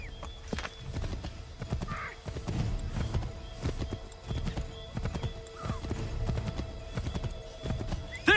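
Hooves of a horse gallop in Assassin's Creed III in a quick, steady clip-clop rhythm close by, with a short whinny mixed in.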